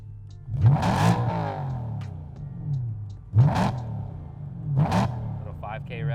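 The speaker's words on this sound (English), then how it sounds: "I'm gonna do a little rev right now without the tune." A stock BMW E92 M3 engine, untuned, is blipped hard three times, each rev climbing sharply to about 7,000 rpm and falling back to a rumbling idle. The sound is loud and close.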